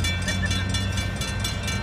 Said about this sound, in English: Then we passed a train, and not just any train